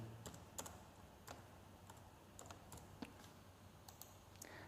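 Quick irregular clicks of typing on a computer keyboard, close and fairly quiet, a dozen or so sharp keystrokes spread over a few seconds with no talking.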